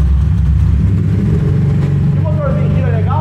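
A 210cc motorcycle engine idles with a low, steady chugging rumble close by, while someone talks over it near the end.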